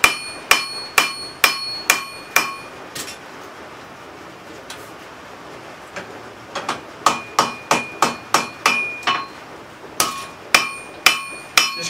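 Sharp, ringing hammer blows strike a railroad spike being forged into a hatchet blade, landing in quick regular runs of close, loud metallic impacts with short pauses between bursts.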